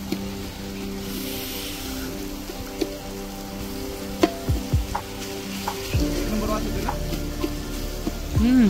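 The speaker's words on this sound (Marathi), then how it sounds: "पहिला आपण त्याच्यात तेल टाकलंय, मग नंतर कांदा टाकलाय. तर तो कांदा लाल होतोपर्यंत त्याला चांगला भाजून घ्यायचा." Onion frying in oil in a pan, cooked down for biryani gravy, gives a steady sizzle with scattered stirring knocks and a few louder scrapes, fairly close and moderately loud, with faint talk in the background.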